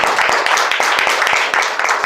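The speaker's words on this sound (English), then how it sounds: "Let's give them a big round of applause." Dense, sustained crowd applause at a program launch for the Immobilis team, many hands clapping steadily and loudly throughout with a murmur of voices mixed in.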